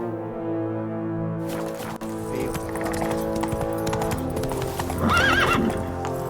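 Roach the horse in The Witcher 3 video game trots with steady clip-clop hoofbeats over a game music bed, then lets out a clear, loud whinny near the end.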